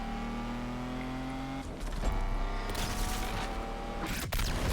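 Ferrari F40 in the racing game Need for Speed Unbound, engine droning steadily through the first half, then a rougher, louder surge of acceleration with crackles and bursts near the end.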